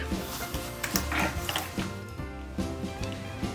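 A sewing machine stitches a zipper seam along the edge of a crochet-hook case, giving a steady mechanical chatter of needle strokes with brief pauses, close and moderately loud with no talking.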